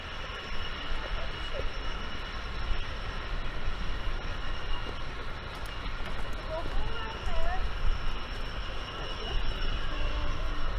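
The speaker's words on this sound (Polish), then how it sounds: "to jest bodajże jedyna na świecie kolejka na wodę" Steady low rumble and mechanical hum of a water-powered cliff railway car in motion at Lynmouth, North Devon, with outdoor ambience and a few voices faintly in the background.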